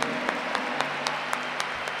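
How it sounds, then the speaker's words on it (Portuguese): Church congregation applauding loudly at a Catholic Mass led by a priest, a dense steady wash of clapping lasting about two seconds with no voices over it. "Vamos aplaudir o Senhor com muita força"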